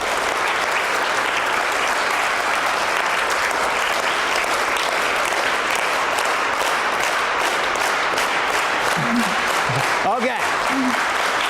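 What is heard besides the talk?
audience clapping, trying to synchronize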